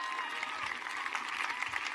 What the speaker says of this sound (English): Give them a round of applause right now.